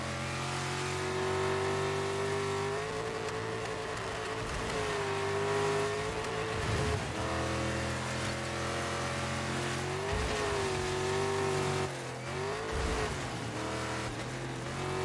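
Lightweight, short-wheelbase race car in the racing game Dirt 5, its engine droning loud and steady with pitch rising and falling through gear changes and throttle lifts, and brief tire scrubs at the dips.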